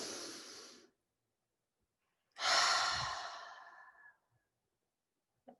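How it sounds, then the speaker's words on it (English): A deep breath in through the nose followed by a long exhale through the mouth during a guided yoga session, the two breaths close and alone in a quiet room. "take a nice big inhale in through the nose and out through the mouth"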